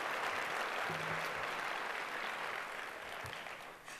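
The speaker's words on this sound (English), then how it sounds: "Please give them a round of applause." Lecture hall audience giving a round of applause, a dense and fairly quiet wash of clapping that holds steady and then tapers slightly near the end.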